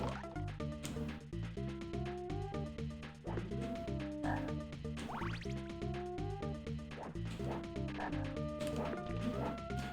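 Frogs croak in The Flintstones video game: repeated rhythmic croaks blend with looping game music and effects, with no talking.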